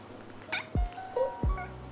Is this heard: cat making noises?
yes